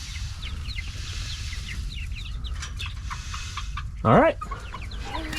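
Chickens cluck and murmur softly nearby, with a louder squawk standing out near the end and a brief spoken word.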